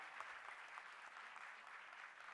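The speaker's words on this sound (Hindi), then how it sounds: "जोरदार ताली बजनी थी, इतनी हल्की ताली बजाओगे तो भाई" Faint, even clapping from an audience of women at an International Women's Day event in Delhi, a soft continuous patter heard from afar with no voices on top.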